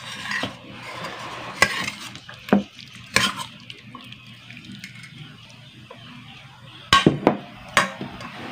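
Dinengdeng, a Filipino vegetable stew, being cooked in a pan, with intermittent scraping stirs and utensil clinks against the metal over a faint low sizzle.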